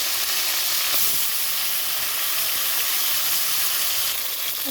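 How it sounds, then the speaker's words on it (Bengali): Flat beans (shim) frying in hot oil in a wok, a loud, steady sizzle and hiss that runs without a break, with no talking over it. "এখন আমি ছিমগুলো ভাজবো"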